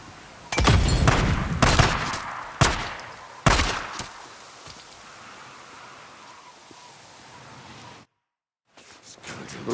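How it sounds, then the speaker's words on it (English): Gunfire in the video game Days Gone, with several heavy booming shots in quick succession close by, then a sustained noisy rumble that cuts out briefly before resuming. "Open fire!"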